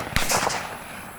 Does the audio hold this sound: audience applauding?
no